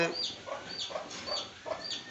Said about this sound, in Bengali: আমার বাড়িতে দেশি মুরগির চাষ আছে